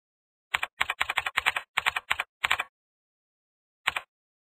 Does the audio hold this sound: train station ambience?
no